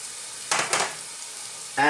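Chopped onions hitting hot sunflower oil in a pan, giving two short bursts of sizzling, then a steady low fry and a fresh hiss at the end, close and moderately loud with no talking.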